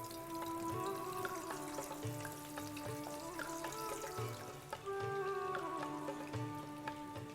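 Patra frying in hot oil: a soft, continuous crackle with scattered popping spatters and faint steady tones underneath, fairly quiet and unbroken.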